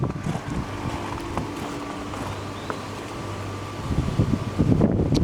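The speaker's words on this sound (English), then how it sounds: "Wind's getting up now." Wind gusts across an outdoor brick wall repair site, a steady rushing roar buffeting the microphone, with a faint low hum underneath and stronger gusts toward the end.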